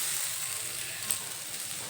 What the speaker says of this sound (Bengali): এখন উচ্ছে আর আলু একসঙ্গে বেশ কিছুটা সময় নিয়ে ভেজে নেব।